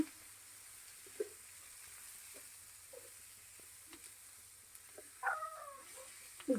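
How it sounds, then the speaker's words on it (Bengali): Soft, steady sizzling of onions and chili frying in a pan with scattered light taps and clinks of stirring; a brief voice-like sound near the end. "ঝাল পেঁয়াজের যে ভাজা চলতেছে"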